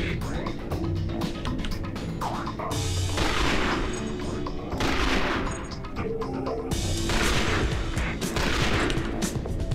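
Rapid sniper rifle gunfire in a video game, loud repeated shots and bursts with crashing impacts filling the clip, over game sounds and a voice talking.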